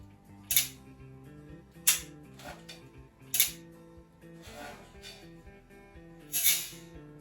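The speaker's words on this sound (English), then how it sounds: "the idea after you get it up here is to cock the pistol in one motion" A revolver is spun on the finger and cocked in one quick motion, giving sharp metallic clicks and snaps at a steady pace, about four crisp transients over a quiet musical background.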